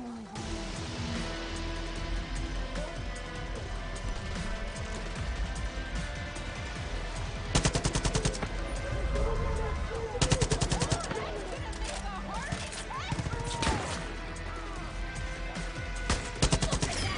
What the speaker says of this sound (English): They got shot with a sniper rifle.